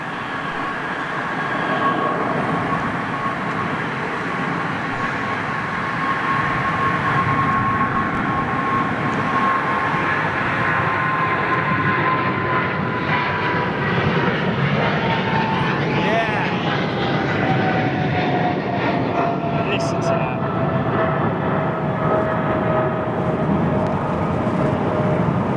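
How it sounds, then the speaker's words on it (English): A Boeing 747 airliner departs Heathrow as a loud, sustained jet roar with a slowly falling whine, swelling and lingering for many seconds as it passes. "I've got two 747s lined up."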